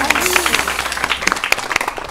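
An audience at a children's talk show on sanitation claps in a short burst of scattered applause that carries on around a speaking voice.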